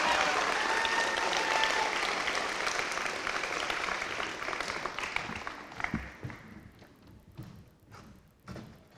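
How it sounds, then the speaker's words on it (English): An audience at a Year 12 school awards ceremony applauds an award recipient. The clapping is steady and full at first, then thins into scattered claps and a few thumps as it fades out. "Let's give him another round of applause."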